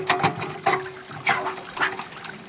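Water from a river or creek is run gently over a gold sluice box set inside a bucket. It comes in short, uneven splashing pours with brief gaps between them.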